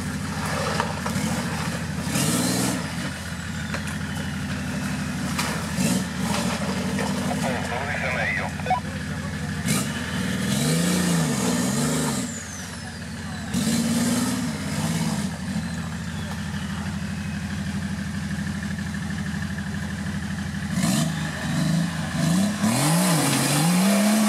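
A powerful car engine revs repeatedly in surging bursts, rising and falling in pitch over a steady running drone, loud and close, while people talk over it throughout.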